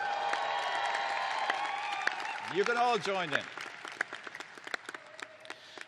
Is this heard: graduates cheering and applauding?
yes